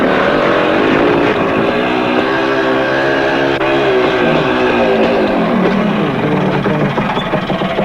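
A 1972 Yamaha DT2MX vintage motocross motorcycle engine runs loud and close, a buzzing two-stroke drone whose pitch rises and falls steadily as it is ridden, with no talk.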